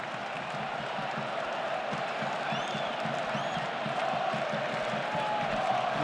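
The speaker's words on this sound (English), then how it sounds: "a ripple of applause each time that Pedri ticks along another pass" A big football stadium crowd during a Barcelona versus Real Madrid match in Seville gives a broad ripple of applause, a distant wash of clapping and murmur that stays fairly steady throughout.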